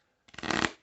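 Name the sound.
shuffling a deck of tarot cards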